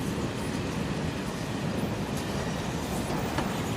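A moving freight train in Final Fantasy VII Remake rumbles on in a steady, low, continuous roar, with a faint rhythmic rattle of the cars and no talking over it.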